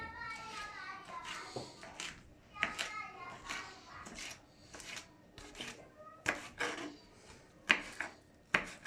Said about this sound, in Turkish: Şimdi bunları küçük küçük doğruyorum.